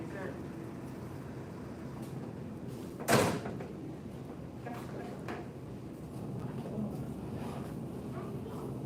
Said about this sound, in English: Push that door open.